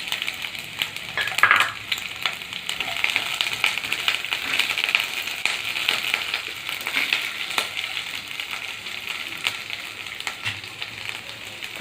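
Capsicum sizzles steadily in a hot pan while cooking paneer chilli, with occasional scrapes and stirring clatter over the constant frying hiss.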